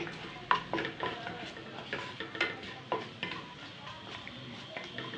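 Clove, cardamom and fennel seeds frying in oil, a moderate crackling sizzle punctuated by regular scraping taps of a spoon against the pan, close and fairly quiet.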